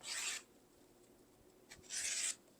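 A rotary or slotted trimmer slicing fabric to trim a quilt triangle, heard as two short, soft rasping strokes separated by a quiet pause with a faint tap between, close and gentle.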